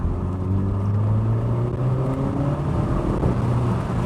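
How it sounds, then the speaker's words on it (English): A Renault Megane RS 300 pulls hard in third gear with the window down, its engine note rising steadily and droning loudly from inside the cabin over wind and road noise, then easing back slightly. "Third gear pull with the window down, you say?"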